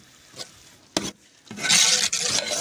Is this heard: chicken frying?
yes